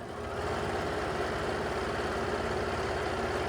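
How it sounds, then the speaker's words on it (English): A fast-running sewing machine stitches pillowcase fabric in one sustained, loud, even whir that starts quickly and continues without pause. "This machine sews really fast"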